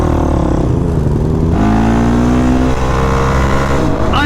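A motorcycle runs loud and close while being ridden, engine droning steadily with shifting pitch as it changes speed and gears, one sharp rise near the end.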